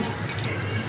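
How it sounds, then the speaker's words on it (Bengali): Water poured into a cooking pot of beef curry on the stove, a steady close low rushing flow lasting the whole second. "এই যে হালকা করে পানি দিয়ে বসাই দিলাম"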